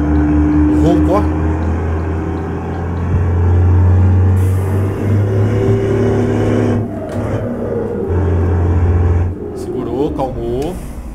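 A heavy truck engine in Euro Truck Simulator 2 hauling a bulk, B-double or road-train trailer roars and swells under load, rising loud in the middle and fading, with someone talking over it.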